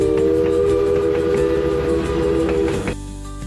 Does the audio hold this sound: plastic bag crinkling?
no